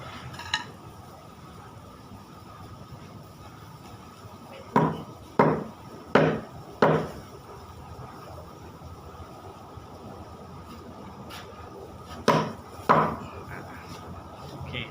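Sharp woody cracks from a knife cutting the end off a bamboo strip, four in quick succession, then a pause and two more, close by over a quiet background.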